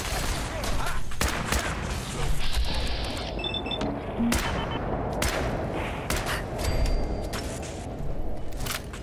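Heavy, sustained gunfire in Fallout 4 during a chaotic battle, dense overlapping shots and crackling bursts filling the whole stretch at high volume, with a voice speaking underneath.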